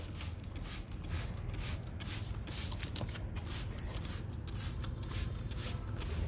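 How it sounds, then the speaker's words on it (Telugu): A liquid solution is sprayed over a flowering plant in quick repeated bursts, each a short airy hiss, close and fairly quiet with no voices. "ఇలా మొక్కంతా స్ప్రే చేసుకోవాలి"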